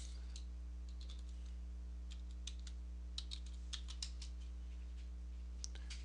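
Someone types a password on a computer keyboard, a short run of soft, irregular key clicks, close but faint over a steady low electrical hum, with no talking.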